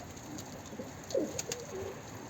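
A faint, soft pigeon coo heard briefly amid quiet outdoor ambience, with no talking.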